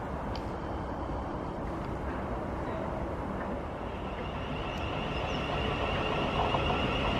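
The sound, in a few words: South Western Railway train arriving at Egham station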